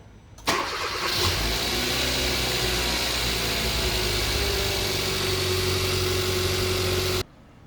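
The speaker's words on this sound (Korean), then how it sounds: "자, 시동 걸고요." A car engine starts with a key, a brief cranking whir snapping into a steady idle that hums evenly for several seconds before cutting off abruptly.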